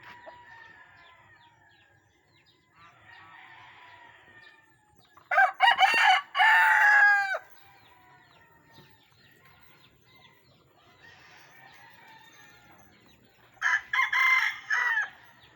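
Free-range native chickens on a farm, with a hen clucking and fowl calling in short bursts. Two loud crowing or squawking outbursts stand out against quiet stretches, close by.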